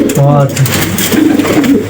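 Pigeons cooing inside an enclosed room of an earthen house, a close, repeated low throaty coo that rises and falls over a steady room background.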